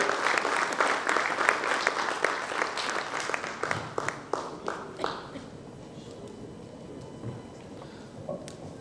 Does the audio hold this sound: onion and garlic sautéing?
no